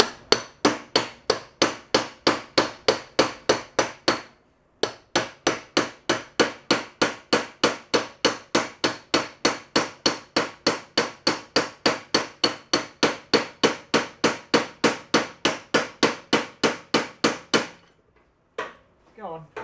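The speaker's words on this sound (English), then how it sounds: "Then I'm going to try tapping the axle in against that play" A hammer taps repeatedly on the wheel axle of an Ariens snowblower, delivering dozens of sharp metallic blows in a fast, even rhythm. After a brief pause near the start the hammering continues steadily, then stops with a few faint knocks at the end.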